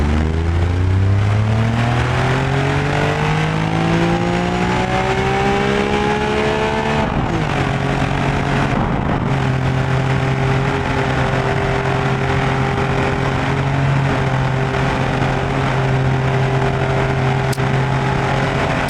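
Ibishu Kevin kei truck in BeamNG Drive, its small engine revving hard and shifting while drifting, loud and continuous with rising whines, a brief dip, then a sustained high drone, tires squealing along.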